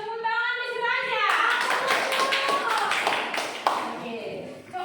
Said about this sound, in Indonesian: Tepuk tangan di aja.